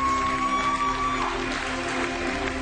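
Steady applause from the audience at the Miss Hungary 2014 pageant fills the hall, a dense continuous clapping with a held musical tone underneath and no voices over it.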